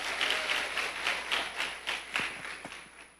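A church congregation claps, with a spread of separate distinct claps that rise and fall in uneven bursts and no talking over them.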